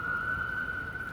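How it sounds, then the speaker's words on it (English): Police siren wailing outdoors as a steady, fairly faint high tone held throughout, over low rumbling background noise. "Fucking sirens."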